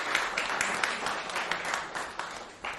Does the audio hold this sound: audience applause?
yes